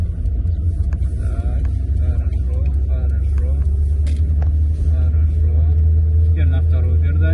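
A car engine drones steadily with a deep low rumble inside the cabin during a winter driving lesson, while an instructor speaks over it.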